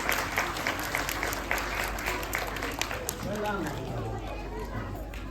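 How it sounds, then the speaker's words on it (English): Audience applauding after a children's performance at a school special assembly, dense steady clapping throughout with crowd chatter and voices mixed in. "So I request all of you to give them huge round of applause once again"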